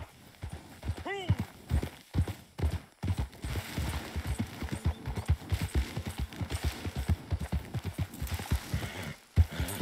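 A horse gallops in the video game Red Dead Redemption 2, its hooves pounding in a quick, steady rhythm with one brief whinny early on, while someone talks over it.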